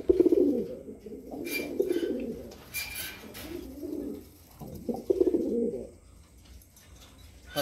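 Several Jhuma Jabra pigeons coo close by in repeated, throaty rolling phrases with short pauses between them.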